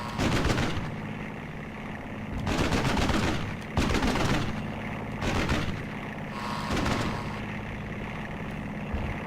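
Aircraft gunfire from a WWII fighter dogfight in the flight combat game Aces High III, with several loud, broadband bursts of rapid shooting separated by short gaps over steady engine drone.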